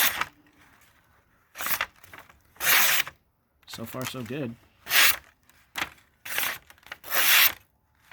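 A Boker 3647 Kwaiken knife with a carbon fiber handle and VG10 blade slices scrap paper in several short, crisp rasping strokes, with someone briefly speaking between cuts.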